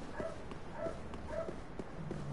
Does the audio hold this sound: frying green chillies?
no